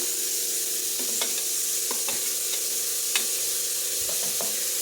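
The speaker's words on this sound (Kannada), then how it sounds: "ನಂತರದಲ್ಲಿ ಸಣ್ಣದಾಗಿ ಕಟ್ ಮಾಡಿರುವಂಥ ಈರುಳ್ಳಿನ ಹಾಕ್ತಾಯಿದ್ದೀನಿ" Finely chopped onions fry in a hot pan for momos, giving a steady, close sizzle broken by short scraping clicks as they are stirred.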